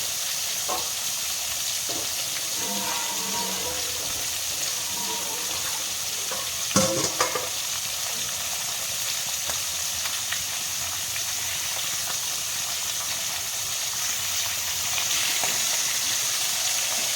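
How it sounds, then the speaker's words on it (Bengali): Eel fish fry in hot oil in a pan, a steady loud hiss and sizzle running unbroken throughout, with a brief clatter partway and faint bubbling, close and without voices. "এবারে মাছগুলোকে ভালো করে ভেজে নেব"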